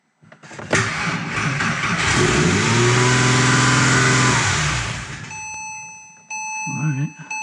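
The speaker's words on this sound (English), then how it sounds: "Why it's revving so high." A Porsche 911 engine undergoing a rebuild cranks and starts, then revs loudly and climbs high before settling; a chime rings afterward and a voice speaks at the end.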